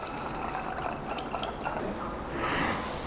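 Hand sanitizer liquid poured through a funnel into a bottle, a steady close trickle and drip of liquid that swells into a brighter, louder gush near the end, with no voices.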